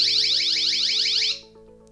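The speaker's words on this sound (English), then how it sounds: "This one is security alarm for personal safety, and when you pull it you get a very loud noise" A Ledlenser flashlight's personal safety alarm blares a loud, rapidly warbling high-pitched siren over a steady electronic hum, then cuts off abruptly, leaving only the faint hum.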